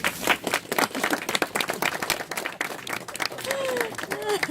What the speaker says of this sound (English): Ladies and gentlemen, I think Andy deserves a small round of applause.